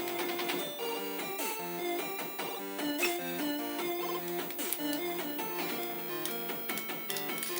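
Bright, buzzy ZX Spectrum 128K game music from a stereo AY sound chip, with fast arpeggiated square-wave melodies and crunchy noise percussion, fairly quiet and continuous, without voices.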